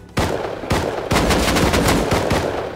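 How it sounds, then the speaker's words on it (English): Gunfire in the survival video game Rust: a first loud shot, a second, then a rapid string of close, heavy shots in fast succession with no pause between them. "I'm shooting him!"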